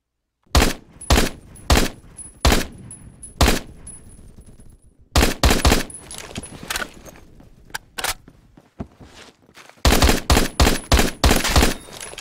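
Loud, close MSG 90 rifle shots fired in Phantom Forces, coming in rapid bursts of sharp cracks with brief pauses between volleys, then a final quick string of shots.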